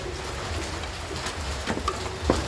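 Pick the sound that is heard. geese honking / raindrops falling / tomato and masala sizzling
raindrops falling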